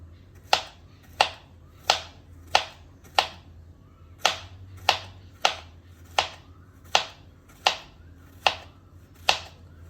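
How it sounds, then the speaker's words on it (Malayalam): A knife slices raw banana for Kerala-style chips in crisp, evenly spaced cuts, about a dozen sharp taps against a quiet kitchen background. "കത്തി കൊണ്ട് ഇങ്ങനെ അരിയാം."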